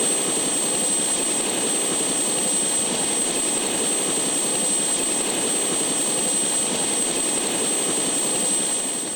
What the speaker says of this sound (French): Le pilote, Jesus, amène l'équipe aussi près que possible des forêts prometteuses.